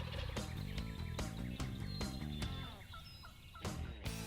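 Wild turkey toms gobbling during a spring turkey hunt, several loud rolling gobbles repeating in quick succession, some overlapping and fairly close, with no talk.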